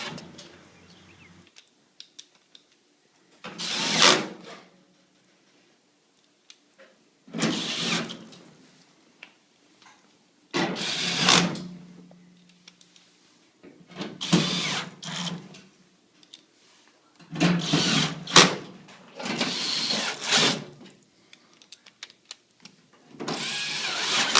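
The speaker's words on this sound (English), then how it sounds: "we can go ahead and put all the screws back in" A power tool drives screws back into the rear panel of a Kenmore HE3t front-load washer during a bearing replacement. Short whirring bursts of a few seconds each repeat about seven times, with quiet gaps between them.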